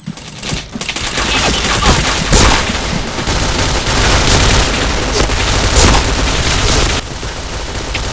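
Dense, loud gunfire from the online shooter game Point Blank, with continuous overlapping bursts and booms over about eight seconds and occasional game voice callouts in the mix.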